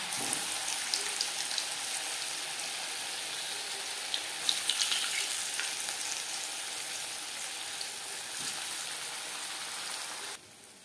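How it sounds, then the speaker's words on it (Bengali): Moong dal puli frying in hot oil on a medium flame, a soft, even crackling sizzle that continues steadily throughout, quiet and close with no voices. "হাই ফ্লেমে তেল গরম করে নেওয়ার পর পুলিগুলো ভাজবো মিডিয়াম ফ্লেমে।"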